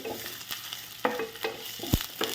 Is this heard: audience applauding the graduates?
no